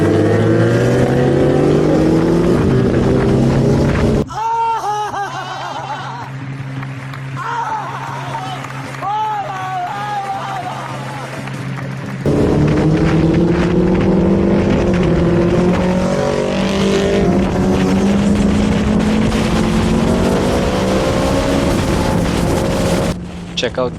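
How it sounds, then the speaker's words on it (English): Suzuki Hayabusa superbikes, including a 25th anniversary edition, riding along a highway in the early morning, engine drone rising and falling with gear changes under steady wind noise, with a brief quieter stretch where one bike's revs climb and drop. "Listen to the such amazing sound. It's a treat to watch the bikes rolling."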